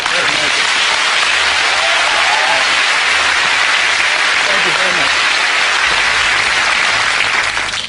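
An audience at a magic show keeps up loud, continuous applause throughout, a dense wash of clapping with a faint rumble of crowd noise underneath.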